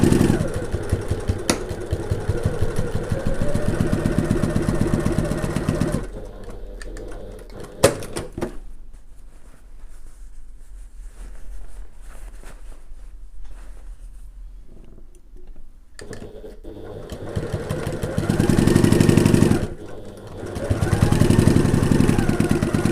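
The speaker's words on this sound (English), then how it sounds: "I'm using my regular stitch length" A sewing machine stitches a fabric gift bag at regular stitch length, a steady close motorized whir in two long runs separated by a quieter pause with a couple of clicks, and no talking.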